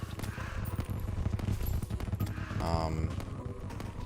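The Stake Launcher fires rapidly in Terraria with Fargo's Mod, a dense stream of punchy shots under busy game effects and a short descending chime, while a voice talks over the action.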